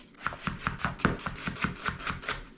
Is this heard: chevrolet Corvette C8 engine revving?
no